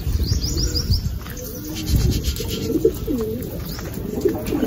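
Racing pigeons returning home to a loft landing board, with soft coos and chirps, light wing flutters and scuffing feet near the microphone, no talk heard.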